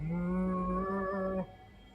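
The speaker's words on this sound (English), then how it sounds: "It's like a mooing noise. Like like the ambience." In the video game Zero Escape: Virtue's Last Reward, a low sustained moo-like tone holds steadily as ambient background, with slight breaks in its pitch, then cuts off near the end, leaving faint room noise.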